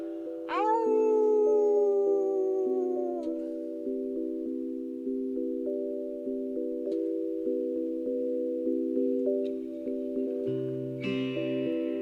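A self-made howl sound effect opens with a long, wavering rising cry that slides down, then gives way to a sustained synthetic tonal drone stepping between notes, with no speech.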